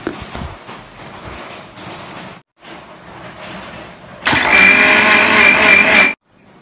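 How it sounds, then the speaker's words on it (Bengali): A kitchen mixer grinder blends mango pulp in a sudden loud, steady whirring burst of about two seconds, following quieter background sounds, and then cuts off abruptly. "আর এইবার এটা আমি ভালো করে মিক্সিতে মেটে দেব।"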